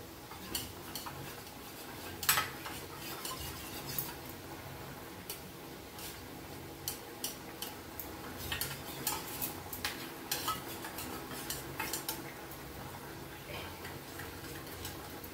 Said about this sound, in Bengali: এই ঝোলটা একটুখানি চামচ দিয়ে তুলে গুলে দিয়ে দেবো